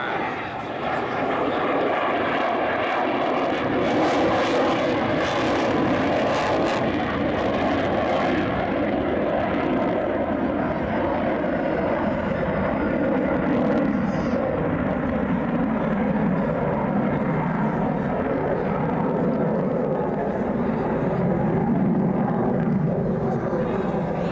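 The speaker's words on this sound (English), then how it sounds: "he'll fly full afterburner and accelerate his aircraft into a nearly vertical climb, demonstrating the F-16's awesome thrust position" An F-16 fighter jet at a Harrisburg-area air show roars on full afterburner into a near-vertical climb, a loud, sustained rumbling jet noise that stays steady throughout while an announcer talks over it.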